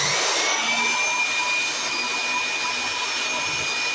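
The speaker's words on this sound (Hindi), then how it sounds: "तो गाइस अगर किसी ब्लोअर की जो हवा है वो अगर लगभग 2-3 मीटर तक जाती है" A high-speed electric blower runs steadily at full power, giving off a loud, continuous rushing hiss with a faint high whine, close up and without talk.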